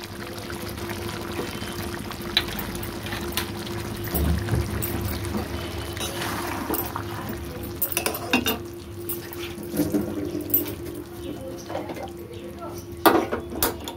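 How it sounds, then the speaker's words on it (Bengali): A brief pour of rose water into a pot of biryani meat, followed by clinking cookware and utensil scraping, moderately close, with some quiet talking in between. "দিয়ে দিলাম 1 ঢাকনা গোলাপ জল।"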